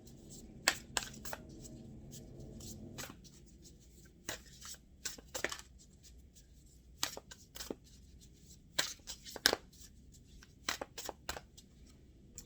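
Tarot clarifier cards laid down one by one on a table, giving soft, scattered slaps and shuffling rustles at close range in an otherwise quiet room.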